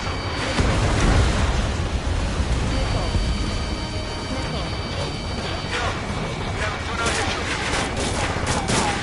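Dense, continuous bursts of gunfire and explosions roll through a combat scene in Ace Combat 7 while an F-35C takes out anti-aircraft guns, loud and chaotic throughout with voices talking over the din.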